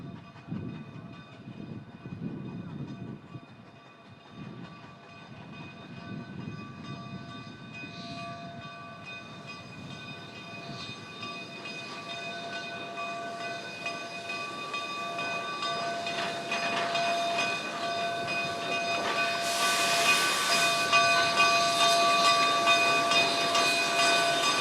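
A steam train stands at Cumbres for water and a brake test, with a steady hiss and low rumble and a sustained whistle tone running throughout. The hissing grows louder toward the end.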